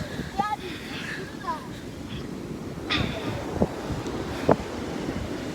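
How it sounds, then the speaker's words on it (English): Big surf pounds a beach with wind buffeting the microphone, a steady roar of breaking waves with a few sharper crashes, while people talk over it. "the waves are like crashing so hard"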